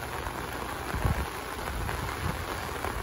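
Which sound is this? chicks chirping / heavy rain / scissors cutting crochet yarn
heavy rain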